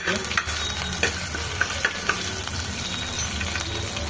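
Ginger garlic paste frying in a pan and being stirred, a steady sizzle with soft scraping clicks from the spoon, close and alone.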